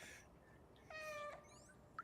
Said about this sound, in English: You can choose to meow.